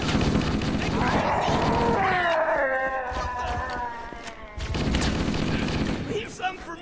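Gunfire from a Marine shooter video game clatters in steady bursts, with radio-style voices talking over the shooting during the middle stretch.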